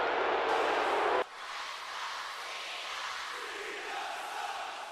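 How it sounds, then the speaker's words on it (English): Arena crowd in the WWE 2K wrestling video game reacting to John Cena in Philadelphia: a dense, continuous roar that is louder for the first second, then settles into a steady wash of noise. "it wouldn't be John Cena being here in the building without the mixed crowd reactions"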